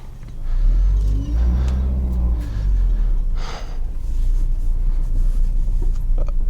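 Peugeot 406 with a 138 hp EW10J4 petrol engine and five-speed manual accelerating, a steady low engine drone with rising revs heard from inside the cabin, continuous and fairly loud throughout with no talk.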